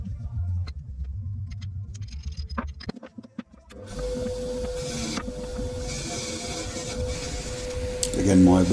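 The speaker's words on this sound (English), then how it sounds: "Again, my wire brushing" A wire brush cleans the welds on Suzuki A100 motorcycle wheel rims, with a steady, loud abrasive whirring hum that starts partway through after some scattered clatter and handling noises, and no talking.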